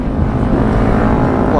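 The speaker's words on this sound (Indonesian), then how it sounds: "Ini di belakang gua kayak ada motor, cuy." A motor vehicle runs close and steady through the whole stretch, a broad low engine rumble, as a motorcycle comes up from behind on a road at midnight.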